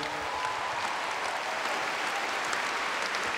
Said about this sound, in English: How about a big round of applause, everybody?